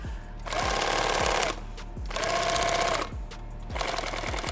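Sewing machine stitching a Thermacell pouch, running in three steady bursts of rapid needle clatter with short pauses between them, close and fairly loud.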